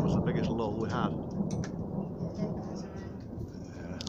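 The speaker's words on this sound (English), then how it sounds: "Rain or hail." Heavy rain or hail pounds down steadily during a thunderstorm with deep rumbling underneath, while people talk over the noise.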